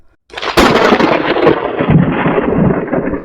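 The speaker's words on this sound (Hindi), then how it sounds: "वो रात भीषण तूफान अपने साथ लेकर आई थी।" A heavy thunderstorm on a stormy night: a loud, sustained crash of thunder rolls in over dense, steady downpour, filling the whole stretch with a dark roaring wash of rain and rumble.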